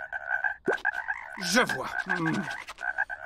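Cartoon frogs croak in a biology classroom before dissection, a loud, close series of rhythmic croaks running throughout, with a brief spoken line partway through.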